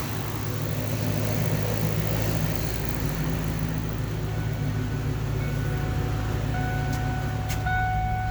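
A steady electric radiator cooling fan on a 1996 Saleen supercharged Mustang GT hums and whirs close by, a constant droning drone with no speech over it.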